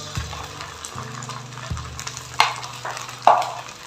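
Onion, garlic paste and ginger paste frying in hot oil for a fish curry, a steady sizzle broken by sharp stirring scrapes of a spoon in the pan, with no talk.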